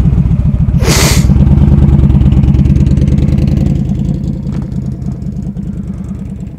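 A motorcycle engine thrums loud and close with a steady, lumpy pulsing beat, a brief hiss near the start, then settles slightly lower as it keeps running at a fast idle.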